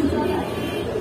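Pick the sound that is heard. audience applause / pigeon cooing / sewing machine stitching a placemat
pigeon cooing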